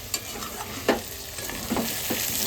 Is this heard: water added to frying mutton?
yes